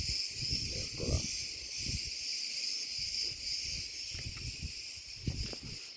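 Cicadas sing in the Cretan countryside in July, a constant bright high-pitched buzzing drone that holds steady throughout beneath low rustling and handling thumps.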